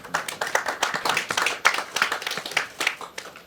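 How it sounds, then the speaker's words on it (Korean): An audience at a forum seminar claps for a district mayor, a dense burst of many hands applauding together, close and lively, fading slightly toward the end. "우리 조은희 구청장께 큰 격려의 박수 부탁드리겠습니다"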